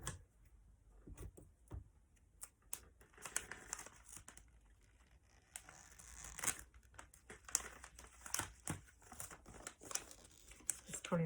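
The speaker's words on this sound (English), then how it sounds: "Peel back the tape." Double-sided tape peeled back while making a paper pinwheel decoration, a series of crinkly ripping and tearing bursts with small clicks, close and intermittent across the clip.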